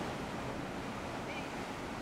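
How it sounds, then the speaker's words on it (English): Water sounds from waves or surf in the background, a faint, continuous wash with some wind noise on the microphone, steady throughout with no clear talk. "you can hear the water in the background"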